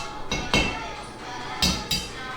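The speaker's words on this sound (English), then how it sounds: "And then just hammer it in." A hammer strikes a metal jack post base set on a concrete floor, one of the supports for a sagging floor beam. Four sharp, close metallic impacts come in two pairs, the strikes about a second apart.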